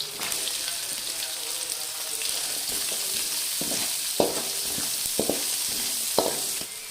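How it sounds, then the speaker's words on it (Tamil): Steady sizzling of onions frying in a pan until golden, with occasional sharp crackles and spoon scrapes as they're stirred. "பாருங்க, வெங்காயம் கோல்டன் கலரில் வந்துடுச்சு"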